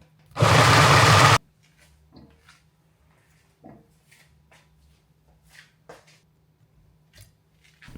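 Ninja Blast portable blender whirring through frozen fruit in one loud, steady burst of about a second, then stopping abruptly, followed by quiet handling clicks and soft knocks.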